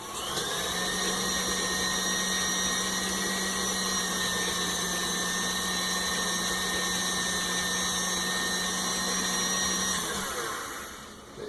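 An electric mixer whips tamale masa for pork verde tamales, giving a steady, loud, continuous motor whine with a constant hum that runs without a break for about ten seconds before it winds down.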